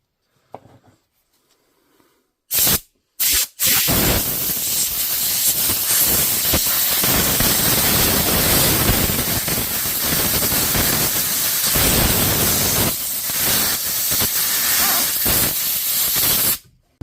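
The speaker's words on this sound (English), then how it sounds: "That are all with a little bit of brake cleaner there" Brake cleaner sprays in a loud, steady hiss onto a DeWalt power tool motor, after a few short test bursts, and runs for about thirteen seconds.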